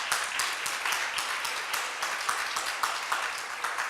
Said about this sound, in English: Can we have a round of applause for Jessie and her team for the incredible food?